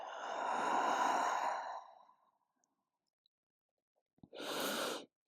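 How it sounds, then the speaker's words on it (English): Two deep yoga breaths, a long audible exhale trailing off over about two seconds, then after a pause a shorter, sharper breath, close and with no talking. "big breath in, big breath out"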